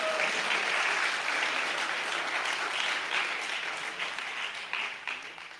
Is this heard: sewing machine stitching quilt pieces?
no